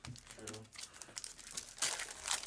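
A trading card pack is ripped open, giving soft crinkling and tearing of wrapper material. The sound is quiet and close, and people talk over it.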